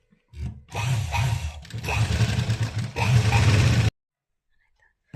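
A sewing machine stitches the border onto a blouse in three close, loud runs of rapid whirring and needle clatter separated by short pauses, then stops abruptly into silence.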